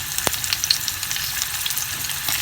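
Chicken kebabs sizzle steadily in a hot pan with a constant crackling hiss and an occasional sharper pop, heard close with no voices.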